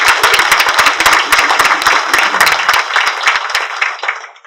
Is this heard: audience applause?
yes